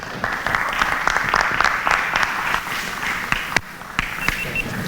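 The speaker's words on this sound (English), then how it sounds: "Please support, give a round of applause." An audience at a crypto conference panel gives a sustained round of applause, dense clapping with a few sharper individual claps standing out as it gradually thins toward the end.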